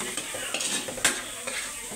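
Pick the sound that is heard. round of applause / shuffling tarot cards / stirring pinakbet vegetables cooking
stirring pinakbet vegetables cooking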